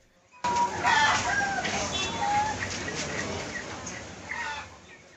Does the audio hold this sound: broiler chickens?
yes